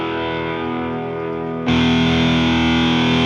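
Electric guitar droning with heavy distortion from a Boss DS-1 pedal set to high gain, a sustained buzzing chord that suddenly jumps louder and brighter partway through.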